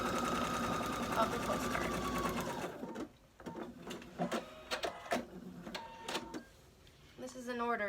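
A sewing machine zigzag-stitches around the edge of a fabric postcard made from a quilt block, a fast steady mechanical whir for several seconds that stops, followed by a voice talking with scattered soft clicks and taps.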